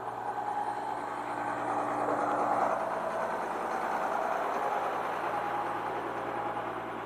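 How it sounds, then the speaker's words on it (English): A crane truck's diesel engine idles steadily, a continuous low rumble with a mid-range drone that holds even throughout, close by with no talking. "we've got to drop the idle."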